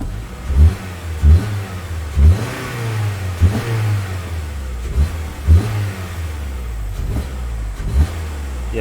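A Honda Civic engine fitted with a new air filter revs repeatedly in short bursts, each throttle blip rising and falling in a steady rhythm over a continuous low idle, loud and close with no talking.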